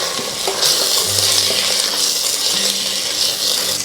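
Chopped beans, cauliflower and other vegetables fry in hot oil in a pressure cooker, a steady bright sizzle punctuated by clinks and scrapes of a stirring spoon against the pot.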